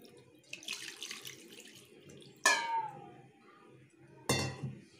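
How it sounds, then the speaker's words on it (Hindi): Water is poured into a cooking pan while a Rohu fish and mango sour curry is being made, giving a soft running splash and then two sharper sloshes over faint background noise. "एथरे पानी को ऐड करी"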